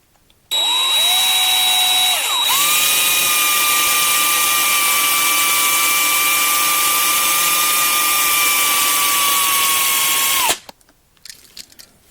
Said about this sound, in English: It's 3/16 drill bit for wood and metal. It's a DeWalt drill bit, DeWalt drill.